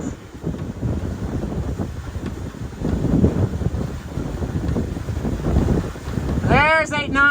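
A sailboat running under full sails at about 8 knots, towing a dinghy with its swim platform down, with rushing water and gusting wind buffeting the microphone, a voice briefly calling out near the end.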